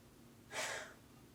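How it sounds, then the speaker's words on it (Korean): A dog in a bedroom at 3 a.m. lets out a single loud, close breath, a brief airy huff lasting under half a second against a quiet night room. "어디선가 큰 숨소리가 들린다."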